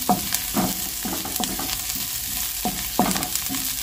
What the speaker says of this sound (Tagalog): Gisa na po natin yung ating bawang sibuyas.